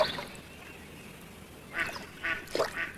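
A few ducks give short quacks, three brief calls close together after a quiet stretch of low background hiss, heard in an outdoor nature setting with no talking.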